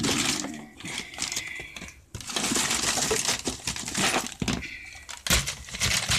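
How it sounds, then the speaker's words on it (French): Crafting supplies rattle and clatter as someone rummages through them up close, with small hard objects knocking, sliding and clinking in irregular bursts, no talking. "je farfouille dans mes affaires"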